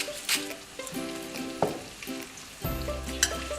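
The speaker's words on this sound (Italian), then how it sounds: "Andiamo allora a coprire con il brodo" Vegetable broth poured into a pan over salt cod cooking, a sizzling splash with clanks and bubbling bursts, close and loud, no talk.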